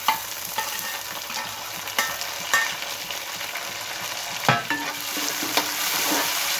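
Tomato and green chilies sizzle and fry in a pan while being stirred, a steady crackle broken by scraping stirs, loud and close with no talk.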